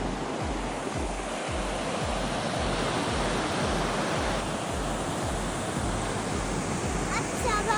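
Sea waves on a quiet Kerala beach break in a steady, moderately loud surf wash, with soft low thumps of water near the start.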